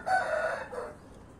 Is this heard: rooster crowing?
yes